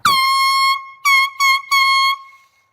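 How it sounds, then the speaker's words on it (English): A partly frozen air horn blasts loud and close: one long blare, then three shorter bursts in quick succession, each a harsh, steady honk, with nothing else heard. "So bad that the air horn froze, like just the bottom froze."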